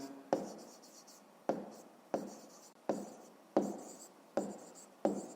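A pen or pencil taps and scratches on paper while numbers are written out in a fifth-grade math lesson: seven sharp, evenly spaced strokes, each fading quickly, close and alone.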